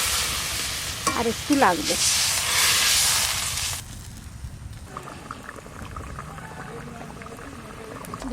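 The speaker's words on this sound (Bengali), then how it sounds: "মশলা আলু ভালো মতন কষানো হয়ে গেছে, এইবার দেবো জল।" Water poured into a pan of spiced potatoes already sizzling after frying down, a loud hissing sizzle bursting up for a few seconds, then settling into a quieter steady bubbling simmer with light stirring; a voice speaks briefly.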